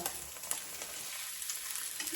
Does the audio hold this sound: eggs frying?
yes